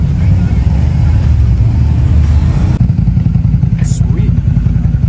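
A large motorcycle engine idles and rumbles loudly outdoors at a muddy bog event, a steady low churning drone with some clatter, and the tone shifts slightly partway through.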